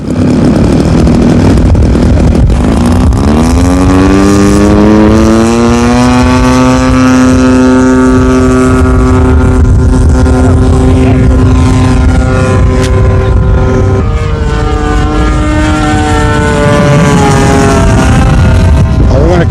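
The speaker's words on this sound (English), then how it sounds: "So Norman has Al, a more experienced flyer, take his fighter up for a spin." Radio-controlled model fighter plane at a 1990 club flying field, its small engine buzzing loudly and continuously with rising and falling pitch as it banks and passes overhead, with wind noise on the microphone.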